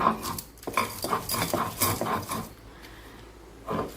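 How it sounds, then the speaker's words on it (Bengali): Taro leaves ground by hand with a stone in a village kitchen, a run of rough scraping and knocking strokes, close and fairly loud, easing off briefly before a last burst. "আমি পাতাগুলোকে একবার বেটে নেব"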